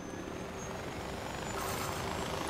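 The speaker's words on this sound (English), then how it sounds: "Helicopter." A helicopter flying in Far Cry 4 gives a steady, dense rotor and engine roar that holds at an even level throughout, with no voices.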